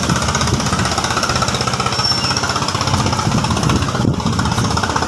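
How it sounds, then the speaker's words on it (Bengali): A motorized trawler boat on the Kangsha river in Bangladesh chugs past nearby, its engine pounding out a loud, rapid, steady rhythm without a break. "ট্রলার যাচ্ছে"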